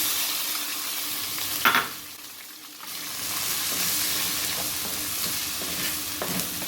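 Crushed ginger and garlic frying in hot coconut oil for a fish pollichathu, a steady sizzle with a sharp splash as they hit the pan, a brief dip, then continuous crackling frying.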